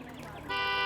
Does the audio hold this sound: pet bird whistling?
no